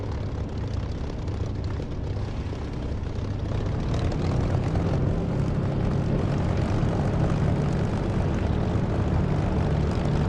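A fixed-wing aircraft engine roars during takeoff in the DCS flight simulator game, a loud, dense, continuous drone that builds slightly in intensity and holds steady throughout without speech.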